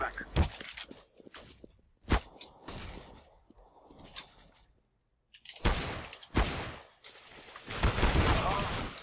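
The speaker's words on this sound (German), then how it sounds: "ich wurde von hinten von meinem Teamkameraden angeschossen und von vorne gepusht" Counter-Strike: Global Offensive gameplay with sharp bursts of rifle gunfire and rapid volleys between quieter stretches, with footsteps and a German-speaking player talking over parts of it.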